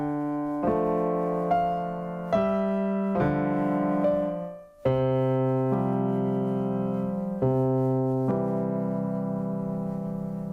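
Solo piano plays the last four measures of a piece as a series of sustained notes and chords, each struck cleanly and left ringing, with no voices over it.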